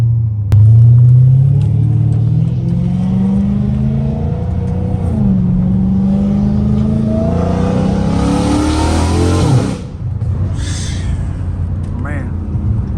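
An 800 HP Dodge Challenger Hellcat Redeye's engine rumbles deep and loud from inside the cabin, rising steadily as the car accelerates and then dropping off abruptly near the end, with someone talking over it.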